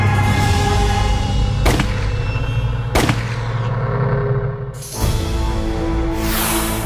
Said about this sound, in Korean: 두 발의 총성이 울렸다.